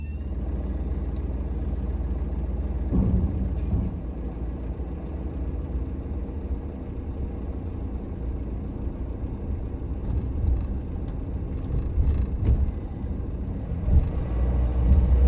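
A car rolls off the Caledonian MacBrayne ferry onto Mull, arriving from Lochaline at Fishnish, with a steady low engine rumble and idling drone throughout and a few brief knocks and clunks along the way.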